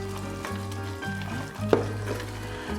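Caramel stirred in a hot pan for a pineapple tatin cake sizzles steadily while a spoon scrapes around it, and a single sharper clink stands out partway through.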